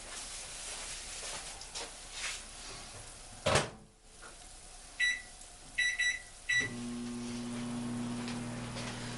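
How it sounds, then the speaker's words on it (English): Microwave oven at full power, heating pasta soup in a home kitchen: a few soft clicks and clunks of the door and buttons with beeps, then a low steady hum as it starts running. "I will put it 1 more minute on the microwave, but now full power"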